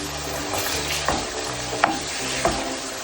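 Beef tibs sizzling in butter in a pan while being stirred, a loud continuous fry with a few sharp utensil scrapes and knocks against the pan, no voices.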